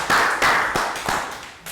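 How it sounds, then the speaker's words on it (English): A small group of children in a Year 3 classroom during a movement and fitness lesson give a short round of applause, a few loud separate bursts of clapping that fade in between. "Round of applause for Nadia."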